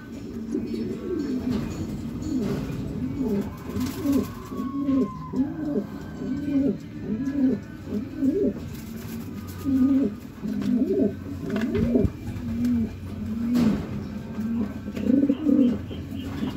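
Racing pigeons at a derby race coo in soft, repeated throaty phrases, close by, with a faint background hum and no talking.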